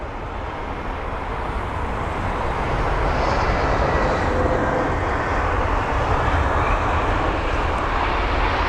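Steady, broad jet roar of a Lufthansa airliner in old livery at London Heathrow, holding loud and unbroken throughout as the aircraft passes.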